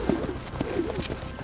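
A horse at a rodeo cowboy competition clip-clops over the ground, a few muffled hoofbeats in an uneven rhythm amid outdoor background noise.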